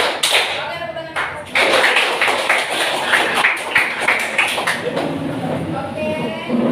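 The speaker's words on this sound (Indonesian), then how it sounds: "Oke, tepuk tangan." Students in a vocational high school classroom clapping hands, a dense run of close, loud claps that follows a short spoken cue and fades toward the end as a voice returns.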